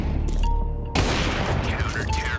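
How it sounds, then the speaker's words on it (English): Gunfire from a Counter-Strike esports match, a couple of sharp shots bursting in after a quieter stretch, mixed with crowd and game noise beneath ongoing commentary. "Lovely couple of shots there"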